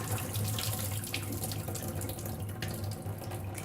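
Tap water runs steadily into a sink while two cups of rice are rinsed in a measuring cup, a continuous close splashing stream with no talking.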